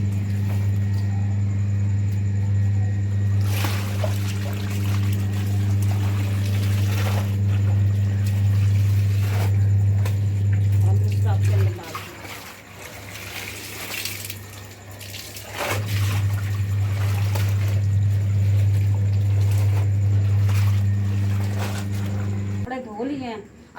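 Water runs and splashes steadily over clothes being rinsed by hand after coming out of a washing machine, with a strong low hum underneath and a pause midway, while a person talks throughout.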